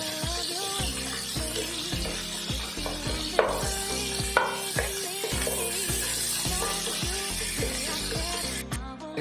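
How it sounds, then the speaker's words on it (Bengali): Onions frying in oil for a mutton curry sizzle steadily in a pan while a spoon scrapes and stirs in a regular rhythm, with a few sharper clinks, close and loud, with no talking. "যত সময় না পেঁয়াজের কালারটা চেঞ্জ হচ্ছে তত সময় পেঁয়াজটা কিন্তু আমি ভাজা করতে থাকবো"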